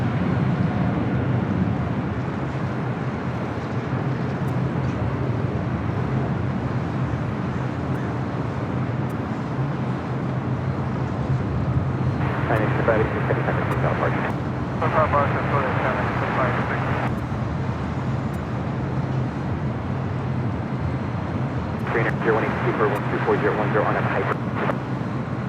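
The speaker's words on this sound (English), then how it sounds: "China Eastern 777 at 300 ER heading back to Shanghai, now taking off" China Eastern Boeing 777-300ER taking off at LAX: a heavy, steady jet engine roar held throughout, distant and broad. Two bursts of higher hissing noise come midway and near the end, and no one talks.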